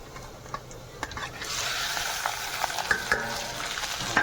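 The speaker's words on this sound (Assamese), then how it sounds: "মাংস প্ৰায় ফ্ৰাই কৰি আছোঁ" Pork and onions frying in a pan give a steady hiss and sizzle that swells partway through, with stirring scrapes and a few sharp ticks of a utensil against the pan.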